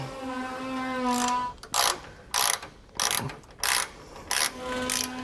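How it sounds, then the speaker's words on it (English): A hand ratchet tightens a nut on the bracket of a Roadmaster front anti-sway bar on a 2008 Winnebago Destination, clicking in six quick, evenly spaced bursts of metallic ratcheting between short pauses, close and loud. "at the top I'm going to have my ratchet, so we'll be tightening the nut down"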